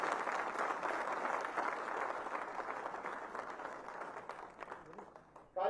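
A crowd applauds a minister's speech at a public event, with sustained dense clapping that gradually thins, heard at a moderate distance, while a voice over the sound system keeps talking.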